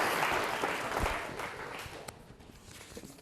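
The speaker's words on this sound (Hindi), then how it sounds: "तालियां जोरों से बजाइए जोरदार तरीके से कामरा साहब के लिए" Audience applause at a Rajasthan quiz show on organ donation, loud and dense at first, then gradually thinning and fading over a few seconds.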